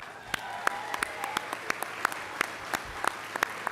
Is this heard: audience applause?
yes